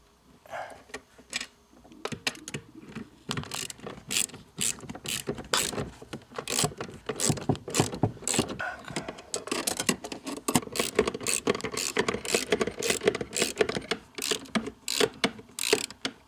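A ratchet socket wrench turns a nut on the steering gear of an Audi 100 A6 C4, producing close, rapid bursts of clicking with short pauses between strokes.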